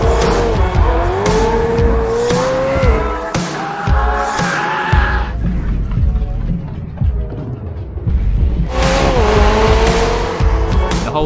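A McLaren 765LT with a full titanium exhaust system being driven hard, engine note loud and close as it rises and falls through gear changes, with tire squeal, a brief lull and then another strong surge.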